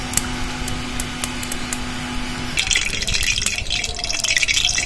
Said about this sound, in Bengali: কড়াইতে রিফাইন তেল দিয়ে দেবো।